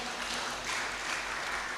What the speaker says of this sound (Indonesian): Haleluya, tepuk tangan bagi Tuhan.